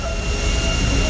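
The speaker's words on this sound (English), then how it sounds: "yeah, private jet." A private jet in GTA 5 sends out a continuous, steady jet-engine roar with a high whine, holding at an even level throughout with no speech.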